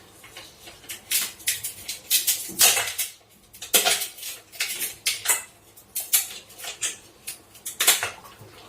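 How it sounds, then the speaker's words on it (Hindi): Ice cubes dropped into churned cream to bring out butter, making a series of sharp, clinking splashes at an uneven rhythm, close and fairly loud, with no talking. "अब इसमें मैं आइस क्यूब डाल दूंगी"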